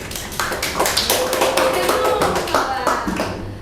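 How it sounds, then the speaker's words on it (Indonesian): Classroom of students claps for group 4 after a presentation, a steady burst of many hands clapping close by with a few voices chattering underneath. "Tepuk tangan buat kelompok 4"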